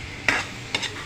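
Two quick stirs of squid sautéing in a pan for a Filipino tomato squid dish, each a short scraping swish over a low, steady sizzle.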